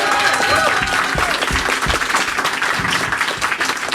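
Loud, close audience applause during a radio Christmas special, a dense, continuous burst of clapping with voices mixed in throughout.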